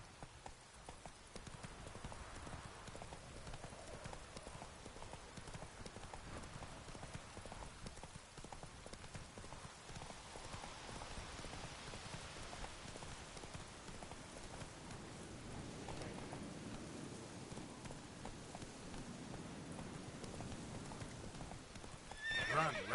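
Roach, a horse in The Witcher 3, gallops with a steady clip-clop of hooves and whinnies, set against a soft rain-like wash throughout, with a louder burst right at the end.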